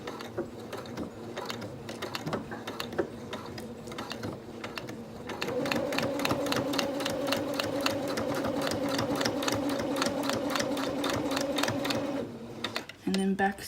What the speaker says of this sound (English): And make sure you back stitch this